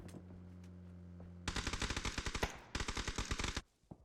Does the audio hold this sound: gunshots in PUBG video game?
yes